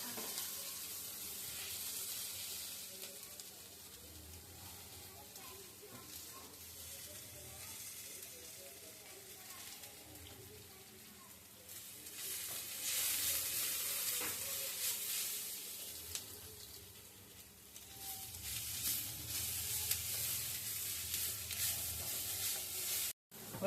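Masala for a Maggi noodle dish sautés in a pan, a soft steady sizzle with stirring and scraping that swells louder in the second half, quiet and close throughout.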